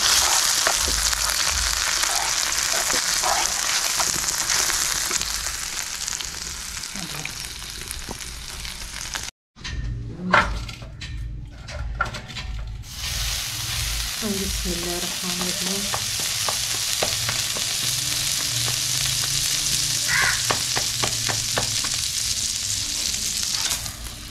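Steady loud sizzling of garlic and green coriander tempering in hot desi butter, with a brief cut partway through and scattered clinks and stirring sounds; no talking.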